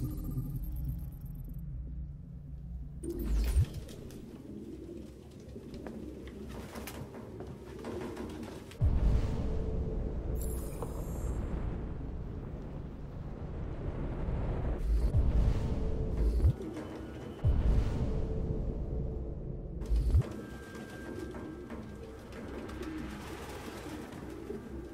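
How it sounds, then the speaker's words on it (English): Pigeons coo in a run-down apartment in the video game Detroit: Become Human, low throaty calls repeating through the scene with soft thuds and shuffling among them. "No human could live with all these fucking pigeons."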